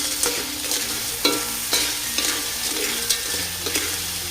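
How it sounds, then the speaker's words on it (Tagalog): A seaweed dish with coconut milk being stirred in a cooking pan, the spoon scraping in a few distinct strokes over a soft steady sizzle, close up with no talking. "Haluin lang natin."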